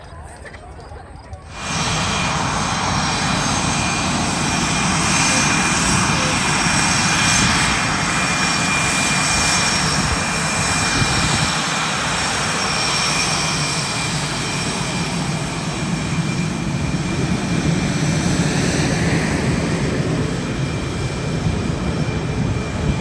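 A CF-18 fighter jet takes off at an airshow, its engine swelling into a loud, sustained roar that fills the air for many seconds, with an announcer talking over it.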